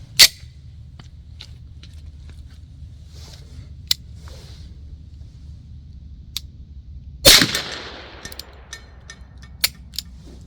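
A suppressed Beretta 92 pistol fires, a sharp muffled crack at the start and a louder burst later, with scattered small clicks and handling noises in between against quiet background hum.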